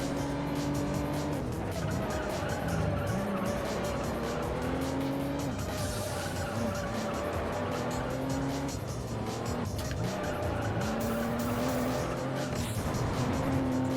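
Toyota Supra racing in the video game Juiced, with loud revving engine tones rising and falling through gear shifts and repeated squealing tires through corners, continuous and close.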